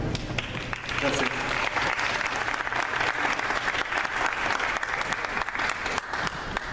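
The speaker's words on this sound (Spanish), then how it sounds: "un aplauso para Darío" Sustained, dense audience applause for a speaker at a digital journalism and social media congress in Cancún, loud and even throughout with crowd murmur mixed in.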